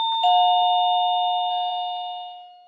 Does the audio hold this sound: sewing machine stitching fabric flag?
no